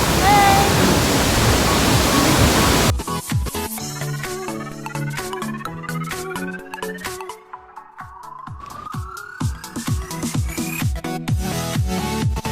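A Bali waterfall roars as a loud, steady rush for about three seconds, then music takes over.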